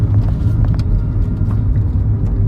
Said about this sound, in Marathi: कास पठार ओलांडून आमची गाडी वासोट्याच्या दिशेने निघाली